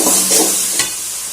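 Tomatoes being sautéed in a pan for a crab soup, giving a loud, close, continuous sizzle with a brief scrape of stirring partway through.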